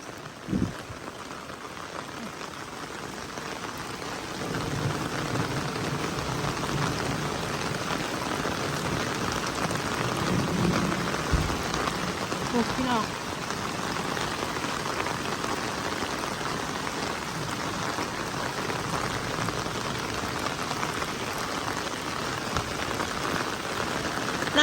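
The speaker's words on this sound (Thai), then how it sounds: "ฝนตกเลยเนาะ" Heavy rain from a storm pours steadily onto surfaces, a dense, loud wash of drumming drops that swells after the first few seconds and holds throughout.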